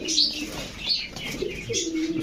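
Belgian-blood pigeons at a pigeon seller's loft, a few soft coos with bursts of wing flapping, fairly close, with faint chirps around them.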